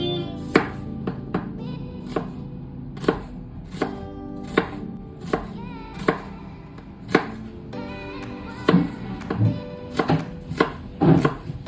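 Garlic cloves for pork adobo are pounded and crushed on a board in a series of sharp, close knocks at an uneven rhythm, some in quick pairs, with no voices.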